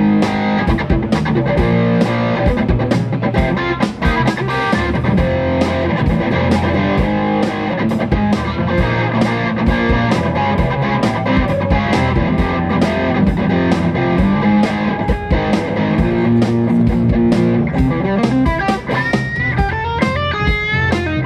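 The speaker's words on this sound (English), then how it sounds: "I'm gonna add some distortion to it." Distorted electric guitar played through a Digitech TRIO effects unit, with a steady drum pattern underneath, loud and continuous throughout.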